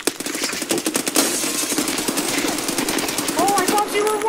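Loud, fast automatic gunfire from Escape from Tarkov, with a steady rattling stream of close shots running the whole way through and a brief rising tonal sound near the end.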